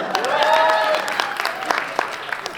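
An audience at a Tamil debate breaks into a short, lively burst of clapping that swells and then thins into scattered claps, with a voice heard briefly.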